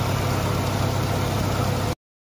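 A car engine idles steadily with a continuous low mechanical hum, loud and close, running evenly for about two seconds before cutting off abruptly to silence.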